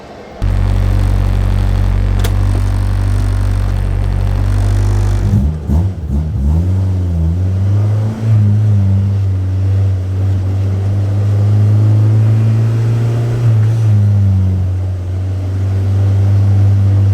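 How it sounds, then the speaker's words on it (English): A car engine starts and pulls hard under power shifting, roaring loud and close with a heavy low drone, a quick shift mid-run, then sustained strained acceleration. "Let's turn the car on and take a nice pull."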